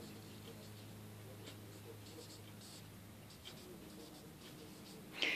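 A pencil scratches across scratch paper in soft, continuous strokes, close and quiet, under faint background hum.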